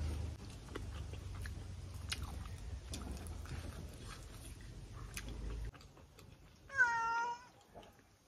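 A cat chews food noisily for several seconds, then gives one clear, drawn-out meow close by after a short pause.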